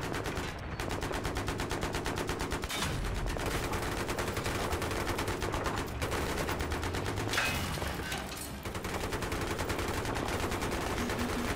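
Rapid automatic gunfire from a Battlefield 3 match, sustained bursts of loud close shots running almost the whole time, with a few brief pauses between volleys and no talking.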